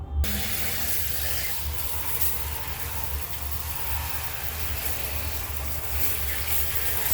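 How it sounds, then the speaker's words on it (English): Running tap water pours over freshly dyed shoes as they are rinsed, a steady close splashing and hiss that continues alone without speech. "let's go ahead and start rinsing them"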